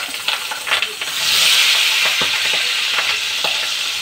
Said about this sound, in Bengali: এই কড়াইতে তেল দিয়ে দিছে, এখন পাবদা মাছগুলি ভেজে নিচ্ছে একদম